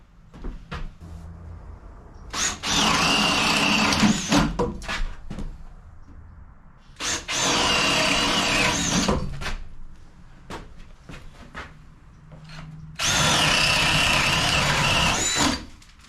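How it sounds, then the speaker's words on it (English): A power drill bores holes through wooden wall studs while an office is being wired, in three loud, sustained bursts of high whining grind, each lasting a couple of seconds, separated by quieter pauses with light handling knocks. "we're going to drill through some studs"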